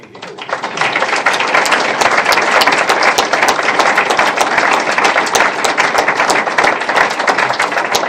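Sustained audience applause at the naming ceremony of Nepean Hospital's East Block, the Patrick Cregan Building, with dense, steady clapping from many hands filling the whole stretch after a quick swell at the start.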